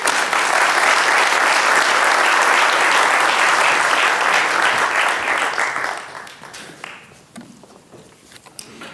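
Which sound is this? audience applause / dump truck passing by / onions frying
audience applause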